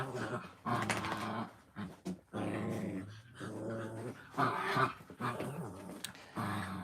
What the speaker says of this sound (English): the dogs are excited this morning and happy